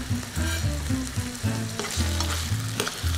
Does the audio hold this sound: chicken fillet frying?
yes